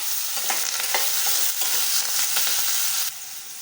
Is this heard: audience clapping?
no